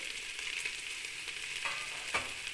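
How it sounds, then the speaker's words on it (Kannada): Ginger garlic paste frying with coriander powder for fried rice masala, a soft even sizzle at close range with a couple of brief stirring scrapes near the end. "ಈ ಶುಂಠಿ ಬೆಳ್ಳುಳ್ಳಿ ಪೇಸ್ಟ್ ಹಸಿ ವಾಸನೆ ಹೋಗೋದು ಚೆನ್ನಾಗಿ ಇದನ್ನು ಫ್ರೈ ಮಾಡಬೇಕು"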